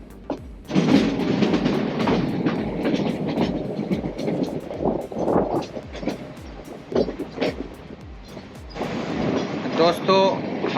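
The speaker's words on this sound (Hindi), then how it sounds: "दोस्तों, हम लोग देवगढ़ की यात्रा कर रहे हैं ट्रेन में बैठकर" From inside a train traveling through forest toward Devgarh in Rajasthan, wheels beat a steady, rhythmic clickety-clack over a constant rolling rumble, close and continuous throughout.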